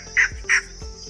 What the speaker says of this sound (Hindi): यहाँ पे एक बैठा है पक्षी,